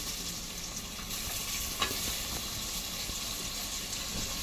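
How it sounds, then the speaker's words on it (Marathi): Potatoes, beetroot and carrots sauté in butter for pav bhaji, a soft, steady sizzle broken by one brief utensil scrape and stirring sounds, with no voices. "आता ह्यात आपण ह्या सगळ्या भाज्या टाकून घेऊया परतून"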